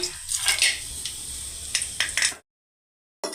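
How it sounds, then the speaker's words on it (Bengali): Whole spices (bay leaf, a cinnamon stick, cracked small cardamoms, dried red chillies and cloves) hit hot oil with a few short crackling, spitting bursts among light clinks, then fall silent. "এবার তেলের মধ্যে গোটা মশলাগুলোকে অ্যাড করে দিলাম।"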